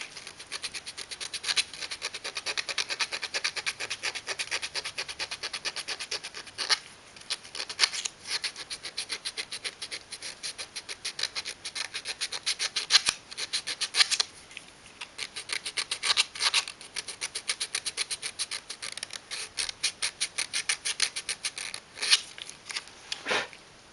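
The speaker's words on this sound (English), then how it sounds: "So that's one edge, and now 20 millimeters of chamfer on this edge, right up to the slot." A wooden edge is chamfered by hand for a tortoise tally gearbox, a continuous close rasping scrape made of quick repeated strokes with slight pauses, steady throughout with no talking.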